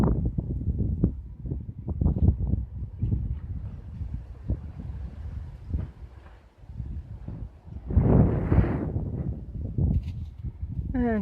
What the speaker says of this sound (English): This is how bad the wind is right now.